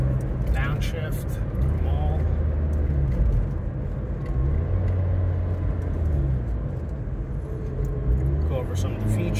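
A 1989 Acura Integra RS engine downshifts while driving, a steady low drone from inside the cabin that shifts pitch as the revs change, with talk over it.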